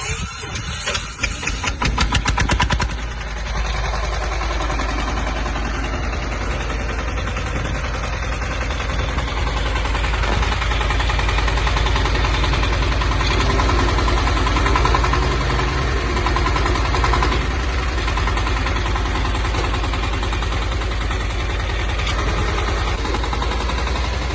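A Zubr 240 walk-behind tractor's engine is running steadily at idle, a continuous loud mechanical drone with vibration, after a brief rough clattering start.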